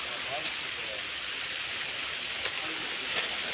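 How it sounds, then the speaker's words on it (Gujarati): Light rain beginning to fall in a village farm area, a soft, even hiss of drops pattering on surfaces that continues steadily for a few seconds. "જો વરસાદ ચાલુ થયો"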